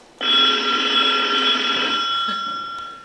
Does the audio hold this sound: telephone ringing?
yes